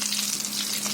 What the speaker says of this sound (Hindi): जब ये डोनट दोनों साइड से अच्छी तरह फ्राई हो जाए तब इसे हम निकाल लेंगे